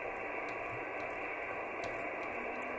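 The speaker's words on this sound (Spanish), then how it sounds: "Vamos a escuchar las bandas piratas, como le nombran." A shortwave radio receiver, a CTE TR45 fitted with a digital DDS VFO, tuned to the pirate bands gives a steady hiss of static and noise with faint ticks and crackles, fairly quiet and unbroken.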